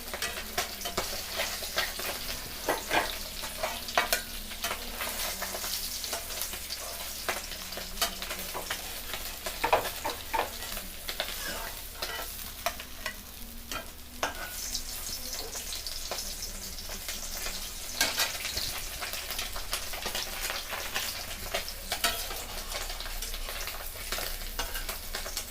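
Parshe fish fry in hot oil with a continuous sizzling crackle and occasional stirring scrapes, close and steady throughout with no talk.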